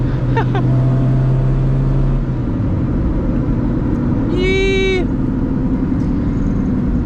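Loud steady road roar from cupped Falcon tires on a Honda Civic EK9 replica being driven hard, a constant low drone inside the cabin with a brief rising whine partway through.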